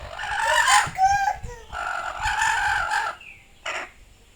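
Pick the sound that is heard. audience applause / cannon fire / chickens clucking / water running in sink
chickens clucking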